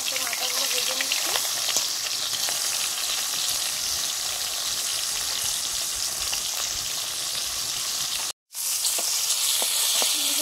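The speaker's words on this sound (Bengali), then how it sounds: "তেল গরম হয়ে গেছে, মাছের মাথাগুলো ভেজে নিচ্ছি।" Hilsa fish heads fry in hot oil with a loud, dense, crackling sizzle that carries on steadily for several seconds, dotted with sharp spitting pops and a brief dropout near the end.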